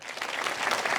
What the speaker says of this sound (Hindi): उनके लिए तालियां बजाएं।